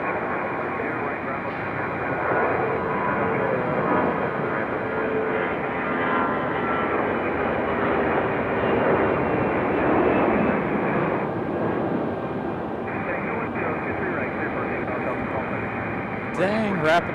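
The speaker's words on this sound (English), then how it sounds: "rapid fire departures here." Delta jets depart one after another at Raleigh-Durham airport, filling the air with a loud, continuous broadband engine roar that holds steady throughout, with voices faintly underneath.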